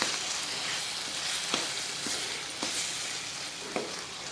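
Paneer bhurji fries in a pan on low flame with a steady soft sizzle, broken by a few sharp clicks of stirring against the pan, alone with no voices.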